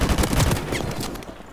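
A short, close burst of AK assault rifle fire in Call of Duty cracks out rapidly and then quickly fades.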